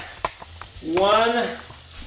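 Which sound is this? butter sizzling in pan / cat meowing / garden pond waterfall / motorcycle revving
butter sizzling in pan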